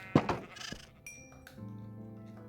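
Sheep bleat in a video game about breeding colorful woolly sheep, with a loud nearby bleat followed by softer calls and small clinking game sounds.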